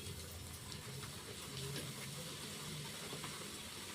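Luchi, a puffed Bengali flatbread, frying in well-heated oil gives a steady, even hiss and sizzle that holds at a constant level throughout, close up, with no talking.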